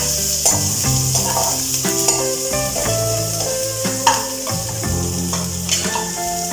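Green chilli and ginger-garlic paste sizzle loudly in a pan while being stirred, with a constant frying hiss, intermittent scraping strokes and background music playing throughout.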